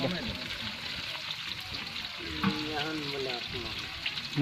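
Bhuna khichuri sizzles and fries in a pan over high heat while being stirred, a steady crackling hiss with occasional scraping, and people talk over it throughout.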